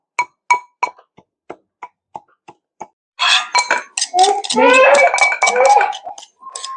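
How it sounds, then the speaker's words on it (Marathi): Sharp metallic clinks of a kadhai being set down and pans knocking together in a home kitchen, about a dozen quick separate strikes, followed by a busier stretch of clatter mixed with someone talking. "आता कढई ठेवली तेल टाकून देते"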